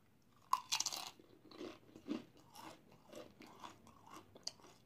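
Doritos Flamin' Hot Nacho chips crunched close to the mic, a burst of loud crisp bites followed by softer, irregular chewing crunches over several seconds, with no talk.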